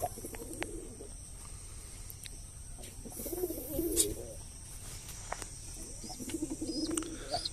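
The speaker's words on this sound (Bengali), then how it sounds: "এখানে আছে কবুতর" Pet pigeons coo in a few low, soft bursts amid quiet surroundings, with occasional faint chirps and light clicks between calls.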